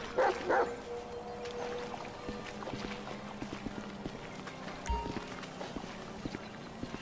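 In a GTA V cop battle at a mansion, a dog barks a couple of times and then attacks amid game noise, with scattered thuds and clatter; the barks come early and are brief.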